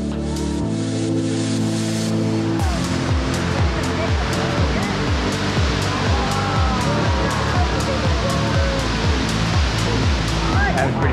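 The West Fork Tuckasegee River rushes during a whitewater release, a loud, steady close roar of churning water throughout.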